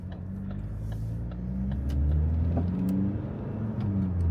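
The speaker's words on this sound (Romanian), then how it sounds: "Ce tare merge Fordul." A Ford car engine revs and hums steadily at close range, rising in pitch a couple of times, with no voices.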